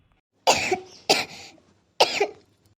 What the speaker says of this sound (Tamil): இருமல் வந்துட்டே இருக்கு